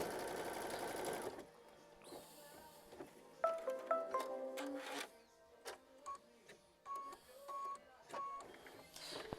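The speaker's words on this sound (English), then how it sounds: "it's sewing machine stitch step 30 right now" After a brief burst of noise, a sewing machine runs in short stitching bursts, rapid mechanical whirring and clacking separated by pauses.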